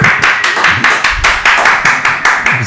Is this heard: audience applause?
yes